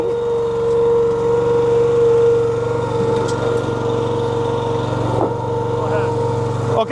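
The engine of a Wolfe Ridge 17VS log splitter runs at a loud, steady idle while big white oak rounds are split outdoors, holding a constant drone throughout, with voices talking over it.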